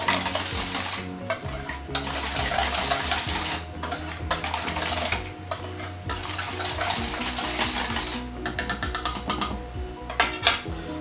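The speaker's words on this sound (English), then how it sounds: "Give this a whisk" Whisking homemade Big Mac sauce in a bowl: a steady, close scraping and stirring of a whisk against the bowl, with a few brief pauses and a sharper clattering burst near the end, no talking.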